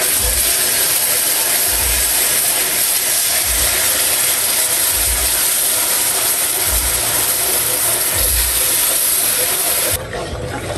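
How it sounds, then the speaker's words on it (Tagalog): Coconut milk poured slowly into burnt sugar in a pan for a Filipino rice cake makes a loud, steady sizzling hiss, with faint regular low thumps underneath, cutting off abruptly near the end. "Unti-unti po ay ilalagay na po natin itong gata."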